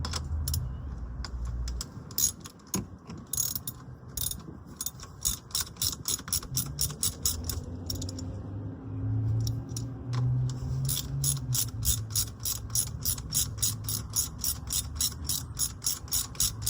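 A ratchet wrench undoing the negative cable on the 12-volt battery of a Kia Niro EV, giving rapid close metallic clicking in bursts, with brief pauses between runs of ratcheting.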